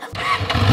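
A voice imitates a motorbike engine in a continuous revving drone that builds and wavers over under a second, fairly loud and close, with no other sound around it.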